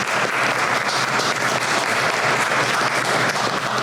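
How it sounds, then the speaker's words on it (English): Vigorous applause fills the air at an old-fashioned Fourth of July celebration, a loud, sustained burst of many people clapping together with no pauses or speech. "Let's give them a round of applause"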